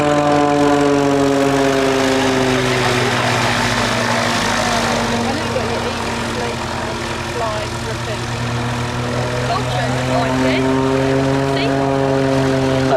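An aerobatic propeller plane flies a solo airshow display, its engine droning loudly with rising and falling pitch as it climbs and turns, under a commentator talking over the public address.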